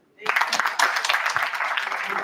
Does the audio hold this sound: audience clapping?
yes